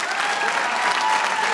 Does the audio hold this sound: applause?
yes